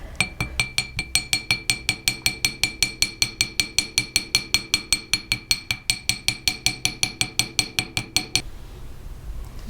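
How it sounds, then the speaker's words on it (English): A hammer strikes a metal rivet on a ring tab, with about three dozen sharp, ringing metallic taps in a fast, steady rhythm, close up, before stopping abruptly. "I continue to strike it until the metal is nice and smooth against the tab there."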